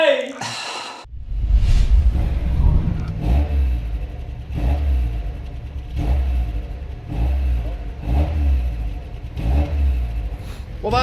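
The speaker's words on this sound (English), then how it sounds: "the exhaust sounds absolute garbage" A Mazda MX5 NB track car with a custom-fabricated exhaust revs repeatedly nearby, about six sharp throttle blips rising and falling in a rough, raspy rhythm with idle between them.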